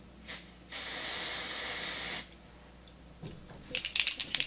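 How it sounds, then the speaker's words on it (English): Sephora Airbrush Perfection Mist spray foundation hisses from its can in a short puff, then a longer steady burst of about a second and a half, followed by faint clicks and taps. "So these are kind of hard to swatch, so I'm just gonna spray them and show you."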